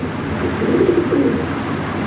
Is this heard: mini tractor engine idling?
no